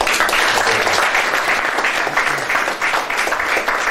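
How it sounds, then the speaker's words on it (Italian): Conference audience at a vineyard and landscape convention applauds, a dense, loud and continuous round of clapping from a seated crowd. "Facciamo un applauso."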